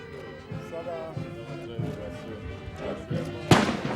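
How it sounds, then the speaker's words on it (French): Deep booming thuds of a 21-gun cannon salute sound roughly every half second to second, muffled and distant at first, ending with one sharper, louder blast, as a voice talks over them. "21 coups de canon pour célébrer l'amitié entre le Burkina Faso et la Guinée équatoriale."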